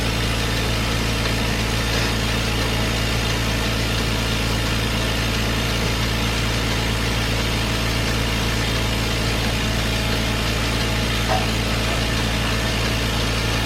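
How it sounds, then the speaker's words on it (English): A Simple Pulse milking machine draws milk from a cow in a barn, giving a steady, continuous mechanical hum and drone at moderate level throughout, with no talking. "There's Janice, she's still pumping out some milk"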